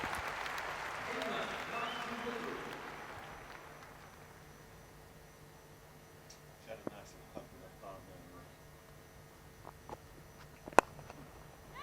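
Crowd at a packed Edgbaston cricket ground during a Commonwealth Games women's T20 match gives a burst of distant applause that fades over a few seconds, followed by quieter crowd ambience with a few sharp knocks.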